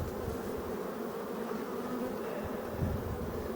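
A large swarm of honeybees hums steadily at a hive in an apiary, an even, continuous buzz held close and moderately quiet throughout.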